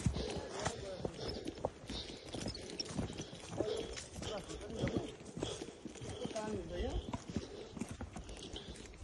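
A horse walking along a rural path, its hooves clip-clopping in a steady rhythm at close range, mixed with people talking and outdoor ambience throughout.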